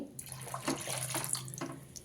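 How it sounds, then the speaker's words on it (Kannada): Water pours steadily into a pot of lentils with turmeric for a couple of seconds, a continuous splashing rush with no talking. "ಈಗ ಇದು ಬೇಯೋಷ್ಟು ನೀರು ಹಾಕೊತಾ ಇದ್ದೀನಿ"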